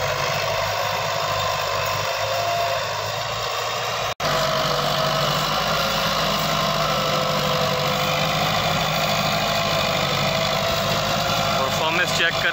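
An old Massey Ferguson 165 tractor engine idles with a steady, loud diesel rumble and rhythmic knock during field preparation for wheat sowing, continuing unbroken apart from one brief dropout.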